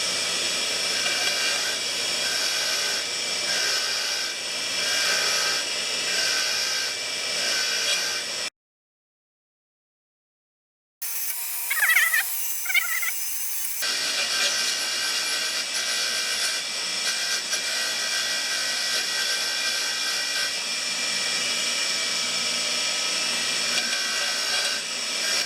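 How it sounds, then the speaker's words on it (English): A bench grinder with a wire wheel cleans the exhaust valve from a 4HP Briggs & Stratton tiller engine, giving a steady loud whirring grind that runs on with a brief silent gap partway through. "we're going to clean the valves on the grinder over on the bench grinder over there"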